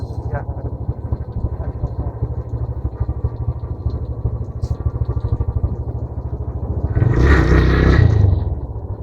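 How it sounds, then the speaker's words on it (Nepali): A motorcycle engine putt-putts near the mic at a rapid, even idle, swelling into a louder, rougher burst toward the end before settling. "मेरो बाइकको उयो सुन्नु त के कराएको हो त्यो क्या पिट पिट पिट पिट भनेको"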